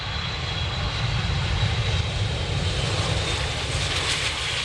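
Airliner jet engines roaring as the plane lands at an airport, a loud, steady broadband rush with a faint high whine, no voices.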